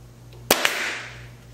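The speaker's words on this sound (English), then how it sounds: "And get the nail gun." A pneumatic nail gun fires into a recessed cabinet frame during installation: one sharp, loud bang followed by a smaller second pop, over a steady low hum.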